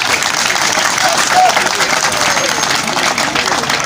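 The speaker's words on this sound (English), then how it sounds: "you can clap if you want to clap" Dense, steady clapping from a graduation ceremony audience, a continuous loud wash of many hands with no pauses.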